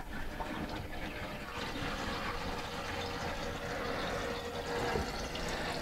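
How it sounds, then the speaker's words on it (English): Toilet tank refilling after the water supply is turned back on, a steady rushing hiss of water flowing in, close and continuous throughout. "Basically what you do is you turn the water back on. It's going to fill itself back up."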